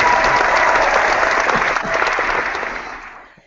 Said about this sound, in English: I just think this needs an applause.